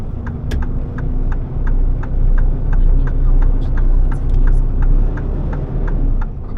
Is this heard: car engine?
yes